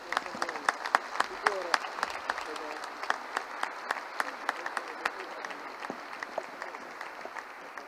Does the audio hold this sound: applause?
yes